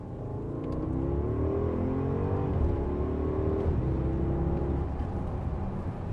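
A 2018 Porsche Cayenne with a 4-litre twin-turbo V8 making 550 horsepower accelerates hard in second gear, its engine roaring loudly and continuously as the pitch climbs steadily, with no voices.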